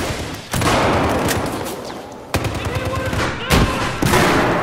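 Loud bursts of gunfire in Battlefield 4, several sharp volleys of rapid automatic shots starting abruptly and trailing off between bursts, close and heavy.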